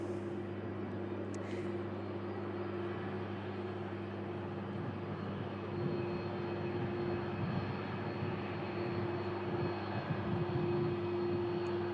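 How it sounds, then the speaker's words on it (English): An Airbus A350 jet airliner departs, heard as a distant steady jet engine roar with a humming drone that swells slightly as it goes on, alone without talk. "A350 on the return leg for Doha. Beautiful, beautiful airframe this. And we're going to capture it departing"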